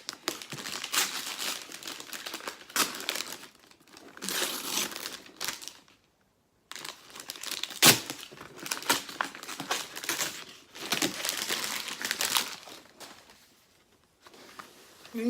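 Paper crinkles and rustles loudly as a gift package is unwrapped up close, in bursts of crumpling and tearing with a short pause midway and a sharp rip.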